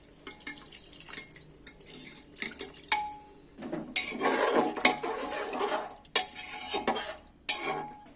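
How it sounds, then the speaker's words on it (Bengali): Water is splashed into egg curry in a pressure cooker, with clattering of metal utensils and pot, stirring scrapes and dripping, close-up, in uneven bursts with no talk. "আমি একটু জল দিয়ে দিচ্ছি"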